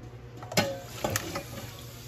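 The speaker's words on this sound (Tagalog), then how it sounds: "So, lalagyan po natin ng tubig." Water splashes and gurgles into a cooking pot of pork tongue in short bursts, close by, with small clinks and a steady background hum.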